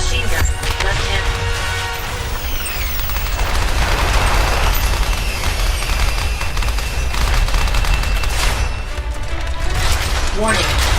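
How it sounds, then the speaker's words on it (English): Machine gun fire rattles continuously in Left Alive, dense rapid bursts with mechanical clatter and crashing impacts over a heavy rumble, loud and close throughout, with a voice speaking briefly under the fire. "Machine gun."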